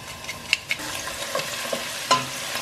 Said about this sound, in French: Pendant que mon oignon est en train de blanchir